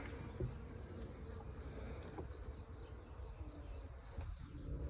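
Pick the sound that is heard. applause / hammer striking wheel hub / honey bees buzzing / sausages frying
honey bees buzzing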